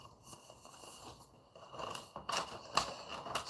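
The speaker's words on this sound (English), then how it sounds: "I'm going to go ahead and cut some of these up." Scissors cut up vinyl pieces up close, a quiet series of snips and crunchy slicing strokes that grow louder and busier in the second half, with no talking.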